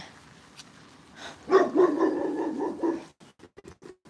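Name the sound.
dog barking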